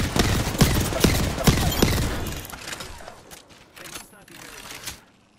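Rapid bursts of gunfire from the Apex Legends battle royale game crackle loudly through the opening seconds, then thin out into scattered shots, with players talking over the action.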